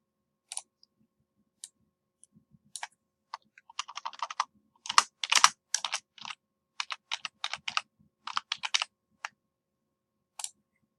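Someone types a new view name on a computer keyboard, soft scattered key clicks that build into quick bursts of typing with short pauses, close and quiet in an otherwise silent room.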